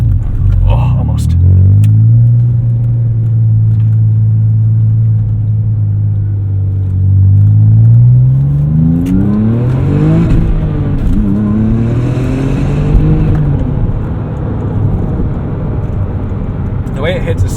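Engine of a 2004 Porsche 911 Turbo X50 on a city drive, heard from inside the car: a loud droning rumble that climbs in pitch as it accelerates, eases off around a gear change and rises again, with a voice talking at times.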